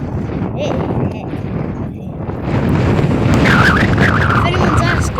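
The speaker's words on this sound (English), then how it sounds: "We'll get some mad wind gusts with it." Strong wind gusts buffet the microphone on the coast at Whitby, a loud roaring blast that swells after a brief lull and stays heavy, with distant waves underneath.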